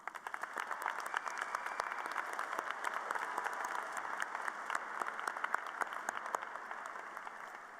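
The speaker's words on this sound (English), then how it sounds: "join me in giving this group of people who have supported you and helped you make it to graduation today a round of applause" A graduation commencement crowd gives a sustained round of applause, many hands clapping in a dense, even roar of claps that holds steady throughout at moderate distance.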